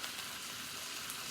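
Steady, quiet sizzling of chicken skewers frying in a pan, a continuous soft hiss with no talking.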